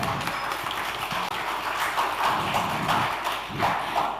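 An audience at a campus event at Universitas Negeri Malang claps in a steady, moderately loud wash of applause that continues for several seconds with no talking over it.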